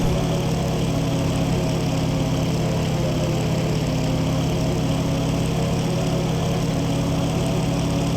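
A World War II-era aircraft's propeller engine drones steadily and loudly at takeoff power in the flight game IL-2 1946, a constant buzzing roar with no talk.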